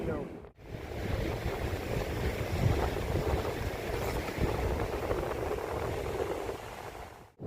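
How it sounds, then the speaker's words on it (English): Strong wind roars across a South Wales coastline during sea fishing, blending with heavy surf into a steady, dense rush that holds for several seconds, broken briefly by gusty buffeting on the microphone. "The wind is picked up and the waves are huge."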